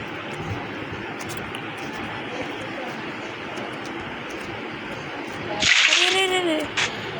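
Water sloshes out of a bucket in a sudden loud splash near the end, during a water bucket trick. A steady background rush comes before it, and a brief second spatter follows.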